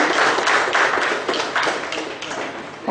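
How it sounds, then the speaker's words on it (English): An audience at a presentation on labour law compliance claps in a short, dense burst of applause that fades slightly toward the end. "Round of applause."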